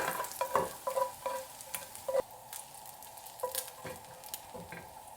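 Bacon frying in a casserole pan on a hot hob, a steady soft sizzle with scraping stirring clatter and a few sharper knocks in the first half, close and moderately quiet, no talking.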